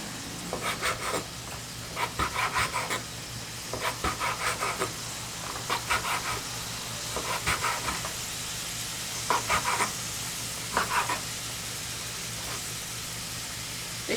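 Chopped bacon fries in a pan with a constant crackling sizzle. Bursts of scraping and clattering recur every couple of seconds as the pieces are stirred and turned, and there is no talking.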